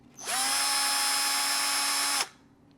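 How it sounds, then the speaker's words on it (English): A power drill whirs steadily at high speed for about two seconds, running counterclockwise to twist wire for a zipper coil, starting and stopping abruptly, with no talking. "So I'm just going to go ahead and switch the direction of the drill to the counterclockwise direction"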